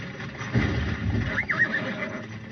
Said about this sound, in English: Why are the horses going so fast all of a sudden?